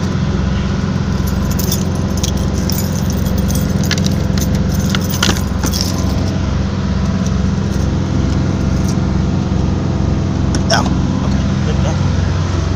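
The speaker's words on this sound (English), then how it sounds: "I get my keys." Keys jangle in a burst of bright metallic clinks beside a truck, loud over a steady low vehicle engine rumble that runs throughout.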